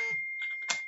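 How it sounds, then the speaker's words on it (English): A phone alert goes off in a home kitchen during hummus preparation, a brief electronic tone with a sustained steady pitch and a few short chime-like blips, moderately loud and alone. "Sorry about my phone there."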